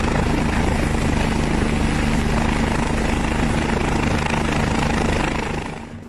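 A French mountain police rescue helicopter over snow-covered peaks, its engine and rotor roaring close and loud as a dense, unbroken drone that fades slightly at the end.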